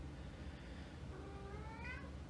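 A house cat gives a soft, drawn-out meow partway through, faint and distant over a steady low background hum, with no speech.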